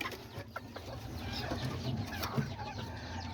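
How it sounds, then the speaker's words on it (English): Small chicken clucking at a cousin's house among other farm animals, soft and fairly close, low repeated clucks over a steady yard background with no talking. "this little chicken."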